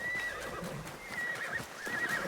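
A horse whinnies in the video game Assassin's Creed Shadows, a clear, close neigh that rises and trails off, with faint hoof clip-clop underneath.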